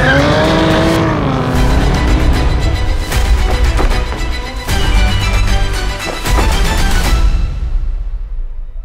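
Mustang Dark Horse and rival sports cars race hard, engines roaring loudly and continuously with sharp bursts and brief tire squeals, a busy track din with no voices.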